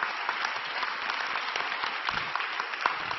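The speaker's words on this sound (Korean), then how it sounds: "큰 박수로 환영해 주십시오." A congregation at Onnuri Church applauds to welcome the pastor, a steady, dense crowd clapping heard as continuous broadband noise without any break.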